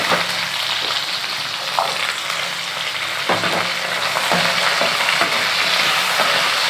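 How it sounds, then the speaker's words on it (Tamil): Small onions sauté in hot oil for sambar, a loud, continuous close sizzle with occasional soft knocks and scrapes of a spoon stirring the pan, and no talking. "அந்த எண்ணெயிலே கொஞ்சம் அது வதங்கட்டும் நல்லா."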